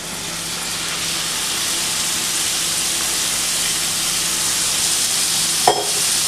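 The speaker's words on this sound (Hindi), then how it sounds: "इस कीमे के साथ हम सारे मसाले जो है स्पाइसेस को फ्राई करेंगे" Minced mutton keema frying with spices in a pan over a medium flame, a loud, steady broadband sizzle throughout, with a single brief clatter of a utensil near the end.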